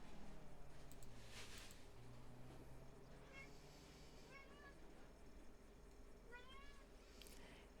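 A pet cat, a female, meows several times in a rising, drawn-out way over a steady low hum, with a few soft clicks and no talking.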